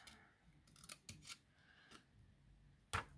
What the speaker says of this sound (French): Je coupe en biseau.